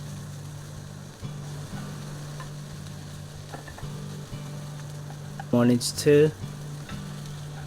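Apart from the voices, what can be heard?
stir-frying baby corn and mangetout in a pan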